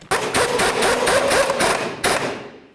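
A bolt on a 2010-2015 Kia Sorento rear shock absorber is tightened, giving a close, loud run of rapid metallic ratchet or impact bursts with brief pauses, then a final burst that fades.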